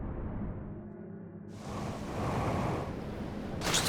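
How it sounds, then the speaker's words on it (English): Rushing water swells in the Outer Wilds: Echoes of the Eye video game, a low ambient hum giving way to a broad, steady roar that grows louder and brighter toward the end. "Yep, here comes the water."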